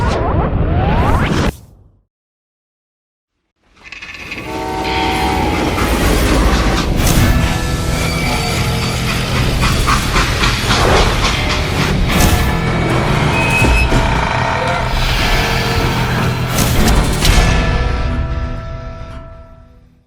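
A freight train in the Call of Juarez Gunslinger video game grinds and rattles loudly after a brief whoosh and a moment of silence, with sustained metallic clatter and screeching that hold steady to the end.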